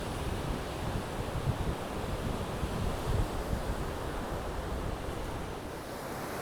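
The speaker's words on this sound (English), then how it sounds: "the waves are just spectacular" Waves crash on Lake Erie during a cold winter windstorm, a constant heavy surf roar mixed with gusting wind and microphone rumble, a few louder surges rising from the steady wash, no one speaking.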